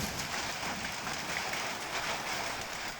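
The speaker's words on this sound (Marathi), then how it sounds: "पाहतोय की जोरदार पाऊस कोसळतोय" Heavy unseasonal rain with hail during a windstorm in Akkalkot, a dense, steady roar of downpour that fills the clip without a break and carries no voices.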